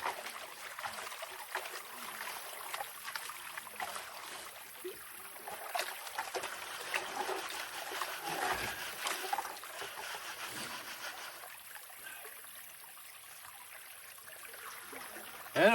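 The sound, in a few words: washing a gold-prospecting find in a pail of water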